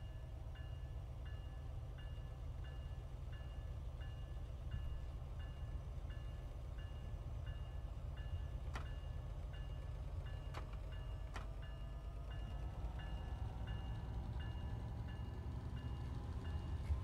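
Steady low rumble of a running MBTA commuter train on the Boston to Providence line in Train Sim World 5, heading for Sharon station, with faint rail clicks and a few sharp mechanical ticks, continuous and close, no talking.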